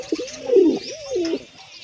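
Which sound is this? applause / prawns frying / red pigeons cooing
red pigeons cooing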